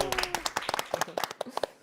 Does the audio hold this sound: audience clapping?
yes